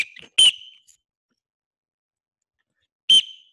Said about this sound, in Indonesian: Yang pertama bunyi peluit 1.